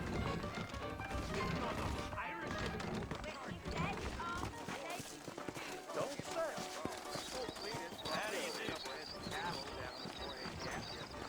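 Horse hooves clip-clop on a dusty frontier street in the Red Dead Redemption western game's New Austin, mixed with game music and effects while people talk over the scene.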